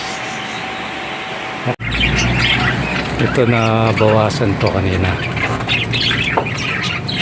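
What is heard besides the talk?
pet birds chirping and squawking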